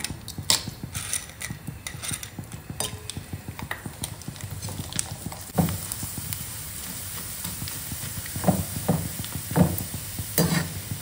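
Fryums deep-fry in hot oil with a busy crackling sizzle and scattered sharp pops and clacks throughout, close and fairly loud, with no talking.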